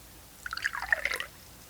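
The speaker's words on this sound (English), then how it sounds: "I brought you some water from my rain barrel" Water from a rain barrel drips and trickles for under a second, a quick cluster of close, soft droplets against a quiet background.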